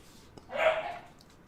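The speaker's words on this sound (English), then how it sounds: "And the killer puppy is heard from." A puppy lets out a single short, high yelp-like bark, fairly faint and somewhat distant against a quiet background.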